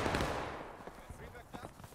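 Gunfire from a Civil War battle video game set at Antietam's East Woods: a burst of musket shots up front, then scattered sharper cracks, with voices talking over the battle.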